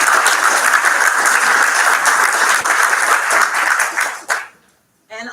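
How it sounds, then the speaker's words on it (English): A crowd at a mayor's state of the city address gives loud, steady applause for about four seconds before it cuts off abruptly, with brief sound resuming just before the end. "Give them a round of applause."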